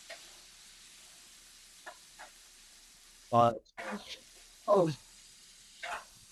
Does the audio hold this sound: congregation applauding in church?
no